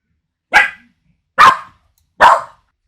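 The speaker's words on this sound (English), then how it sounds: "that's the dog" A dog barks three times indoors, sharp single barks spaced evenly about a second apart, close and loud, with silence between them.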